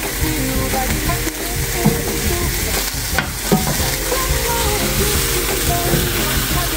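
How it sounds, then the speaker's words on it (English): Ground meat browns in a pan for spaghetti, already salted with parsley and turned with a wooden spoon; a steady close sizzle runs throughout, broken by repeated scraping stirs and a few sharper clacks. "So we're browning the meat"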